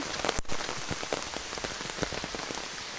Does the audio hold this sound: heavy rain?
yes